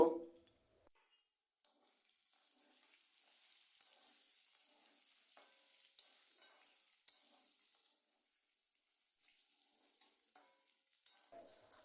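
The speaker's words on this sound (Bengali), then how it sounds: "আলুর মধ্যে পরিমাণ মতো নুন আর হলুদ দিয়ে লাল লাল করে আলুটাকে ভেজে নেব" Cut potatoes with salt and turmeric fry in a pan with a faint, steady high sizzle, marked by small soft ticks of stirring and a brief clunk at the start; quiet, with no talking.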